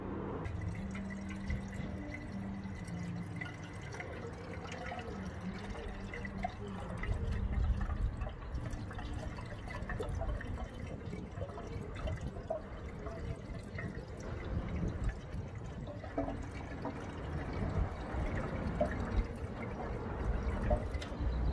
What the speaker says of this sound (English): I'm going to put the water coolant in here now.